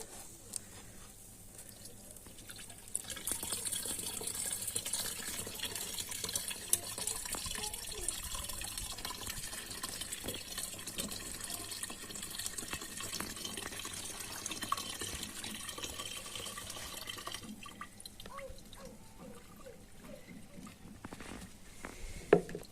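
Milk pours into a container for making buttermilk in a rural kitchen, a soft, steady liquid trickle and patter running throughout at a close but quiet level, with no talking.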